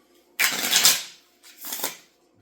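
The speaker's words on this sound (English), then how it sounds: "You can even cut the deck and then give the card a bit of a shuffle." A deck of playing cards being shuffled in a close-up magic trick, two quick riffling bursts, the first longer and louder, a short pause between them, heard close with no talk over them.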